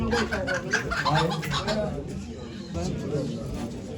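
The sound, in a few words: chickens and rooster clucking at poultry auction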